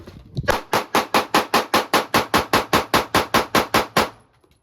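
Rapid pistol fire from a Springfield Armory Hellcat or Sig Sauer P365: about seventeen sharp, loud shots in a fast, evenly spaced string, ending in a brief quiet tail.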